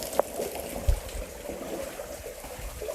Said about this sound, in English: There's no good way getting past through this little waterfall.